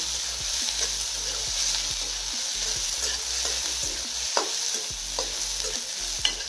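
Sliced onions fry over high heat in a pan while being stirred continuously. A steady, close sizzle runs throughout, broken by soft, repeated scrapes and occasional clicks of the spoon against the pan.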